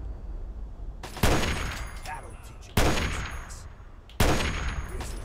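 Three loud, sharp gunshots from Fallout 3, spaced about a second and a half apart, each ringing out with a decaying tail, no talking over them.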